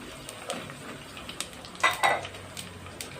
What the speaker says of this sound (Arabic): تمام كده السوداني بتاعي اتحمص. هنزل بقى دلوقتي بالسمسم بتاعي، كوبايه السمسم